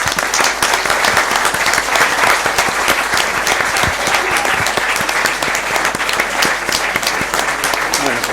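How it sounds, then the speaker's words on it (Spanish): A hall audience at a tribute ceremony bursts into sustained applause, dense loud clapping that holds steady for several seconds, with a faint murmur of voices underneath. "les quiero pedir a todos ustedes que dediquemos a Juan Van Halen el aplauso de agradecimiento"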